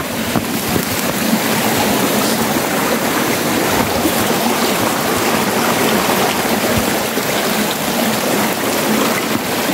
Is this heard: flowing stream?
yes